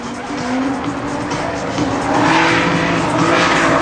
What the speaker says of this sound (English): Throws it sideways, puts him way off angle for the infield.